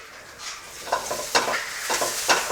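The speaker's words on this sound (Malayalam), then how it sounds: "ഒരു സിസേഴ്സ് വെച്ചിട്ട് ഇളക്കി കൊടുക്കുക" Crab roast with green chillies being stirred in a frying pan, a steady sizzle broken by several sharp scraping strokes of the spoon, close and fairly loud with no voices.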